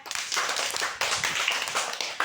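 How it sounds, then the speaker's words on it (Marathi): Scattered clapping from a small group of children in a classroom, uneven and fairly quiet, with a sharp burst at the start and another surge after a short dip. "छायासाठी जोरात टाळ्या"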